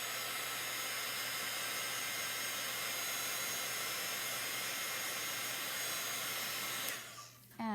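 Steady, loud whoosh of a blow dryer drying chalk paste on a stencil, running continuously and close by, then cutting out near the end.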